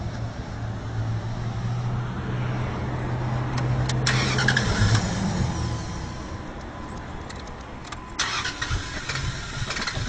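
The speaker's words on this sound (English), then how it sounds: "To prove it, we'll start it and make sure that any fuel that was left in the fuel rail is burned out real quick." A pickup truck engine with its fuel shut off cranks and briefly catches, a droning whir followed by sputtering, uneven firing that fades, then a sharp clatter near the end.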